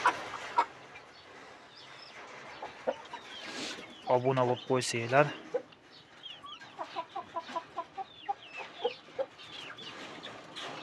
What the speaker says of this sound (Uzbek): Mana biz katta xo'rozimiz.